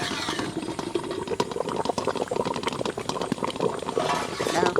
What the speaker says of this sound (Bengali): কি সুন্দর জাল উঠতেছে।